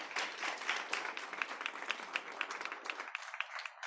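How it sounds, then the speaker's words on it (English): An audience at a panel event applauds, a dense wash of many hands clapping steadily for a few seconds before it suddenly thins out. "Let's give our panelists a round of applause."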